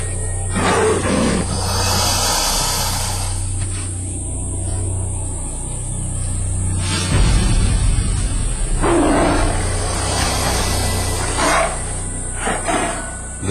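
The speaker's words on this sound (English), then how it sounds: "Sometimes a crocodile makes the mistake of trying to steal a tiger's kill." Tiger and crocodile fighting over a kill, with loud snarling roars and growls in repeated bursts, close and aggressive, layered over a steady high-pitched background tone.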